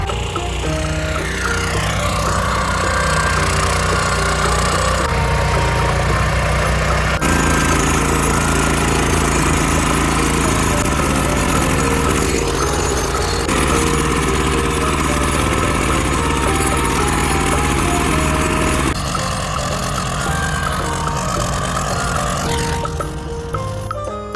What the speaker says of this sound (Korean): 오늘은 관리기로 해서 로타리를 치려고 합니다.